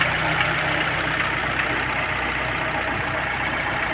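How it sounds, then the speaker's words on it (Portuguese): A Chevrolet Celta's freshly assembled engine idles smoothly and steadily in a workshop, a loud, close, even hum with no voices over it. "Motor sereninho."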